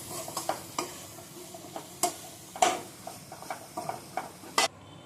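Soft frying sizzle of spices sautéing for paneer kurma in a pan, with scattered clicks and scrapes of a utensil stirring, fairly quiet and close.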